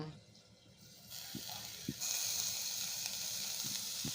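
Cinnamon and ginger paste sizzle in hot oil while cooking tomato rice, a steady hiss that swells louder partway through with a few soft thuds from the pan underneath.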